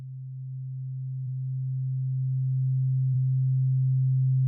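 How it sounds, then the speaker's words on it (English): Two sine wave oscillators drifting back into phase give a single low, pure steady tone that swells gradually louder, with faint clicks at a couple of points and no other sound. "So if I move the phase position now of this oscillator back,"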